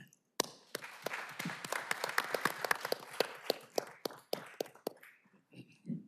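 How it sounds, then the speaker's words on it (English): Applause in a city council chamber, a modest group clapping with sharp, distinct hand claps that thin out into scattered final claps over several seconds. "we owe you another round of applause for that"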